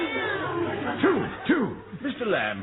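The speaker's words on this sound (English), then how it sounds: "what's that cat doing on your head?" A stray cat meows several times in quick, rising-and-falling calls, close and fairly loud, mixed in with a voice talking over it during a radio comedy sketch.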